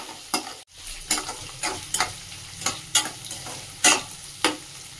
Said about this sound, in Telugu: ఇలా ఎగ్ అంతా కుక్ అయిపోతుంది